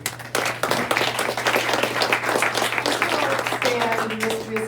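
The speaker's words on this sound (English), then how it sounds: "great round of applause" Audience applause at a district meeting, steady dense clapping filling the room, with a little background talk and a faint tone near the end.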